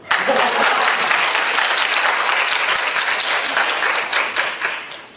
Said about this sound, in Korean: 혹시 아까 박수 쳐주세요.